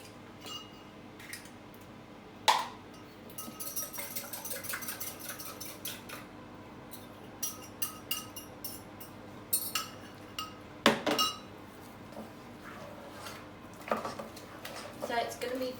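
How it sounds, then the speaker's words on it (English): A wooden spoon works gougère choux dough in a bowl, giving soft scrapes and stirring thumps. Clinks and knocks against the bowl come irregularly throughout, some of them sharp, in a quiet kitchen. "I kind of prefer to just use a wooden spoon"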